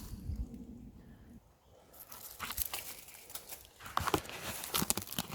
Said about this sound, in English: And there we go, harvesting birch bark.